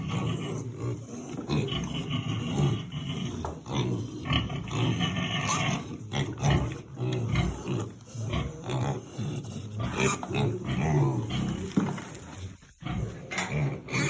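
Piglets on a pig farm being fattened on pelleted feed, grunting and squealing in a busy, overlapping chorus with uneven bursts close by, no talk over them.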